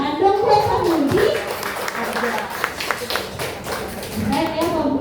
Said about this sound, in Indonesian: Tepuk tangan dong buat Pak Budi.